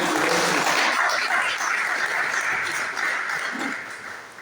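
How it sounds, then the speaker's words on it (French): A seated audience at a public lecture and book signing gives a doctor a round of applause, a dense, loud wash of many hands clapping that slowly fades toward the end. "Je vous prie d'applaudir une fois de plus pour le docteur"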